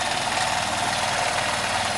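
A 2001 Honda CH80 scooter engine with a cleared idle jet idles steadily nearby, a constant low chugging rumble with no variation.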